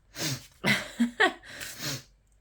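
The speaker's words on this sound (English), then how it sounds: "I'm sneezing away doing my YouTube video" A woman sneezes during a spoken horoscope reading, a few sharp, breathy bursts close to the mic within about two seconds, with snorting and breathing between them.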